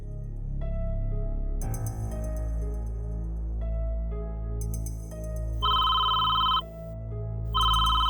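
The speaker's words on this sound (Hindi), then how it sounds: "अरे जा जाके देख किसका फोन है।" A telephone rings in a household scene, loud electronic bell bursts sounding in repeated pulses over a background music score, each ring a bright trilling tone.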